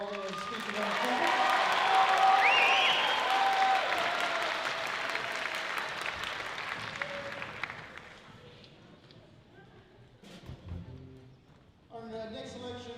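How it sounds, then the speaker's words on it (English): A school band concert audience applauds in a loud, broad wave that builds and then fades over several seconds, followed by quieter room sounds and a voice speaking. "an extra round of applause for Josh Mercado Valdez speaking on trumpet"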